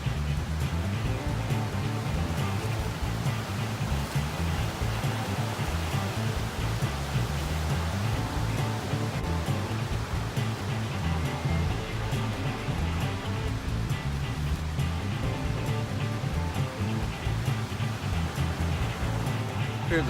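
A vehicle fords a creek on a forest road as water surges and splashes over its hood, producing a loud, continuous rushing wash that runs unbroken throughout.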